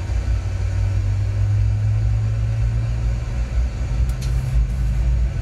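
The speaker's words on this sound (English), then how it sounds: "We can hear the engines." Aircraft engines running steadily just after start-up on an airliner at the gate, a continuous loud low rumble and whine heard from inside, with no voices.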